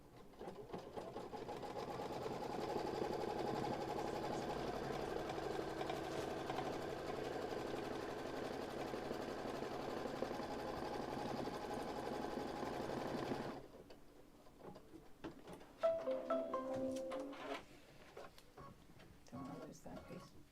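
Sewing machine stitching around a quilted gift, a long steady rhythmic whir close by that stops partway, followed by faint handling clicks.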